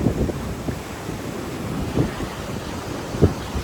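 Water at Ethipothala waterfall gives a steady, loud rushing roar with wind buffeting the microphone throughout, and no voices.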